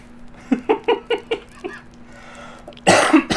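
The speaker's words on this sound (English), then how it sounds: "I have to try not to laugh, because then I start coughing" A run of six short coughs in steady rhythm, close and fairly loud, followed after a pause by a harsher burst near the end, all heard indoors.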